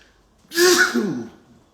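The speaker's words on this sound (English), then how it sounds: "Excuse me, I'm sorry for sneezing." A single sneeze, close and loud, with a sharp breathy burst followed by a short voiced tail, then quiet.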